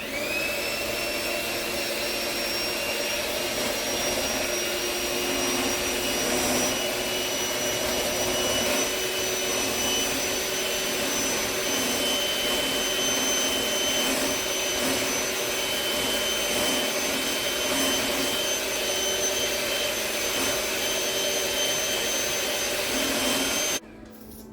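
An electric mixer beats sugar into sweet potato pie filling, a steady close motor whine that holds evenly for over twenty seconds and then cuts off abruptly.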